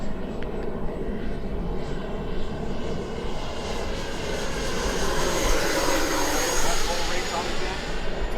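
An FMS Futura 64mm electric ducted-fan RC jet flies at sunset with a steady, whooshing turbine-like roar that slowly swells as it passes closer, then stays loud and continuous throughout.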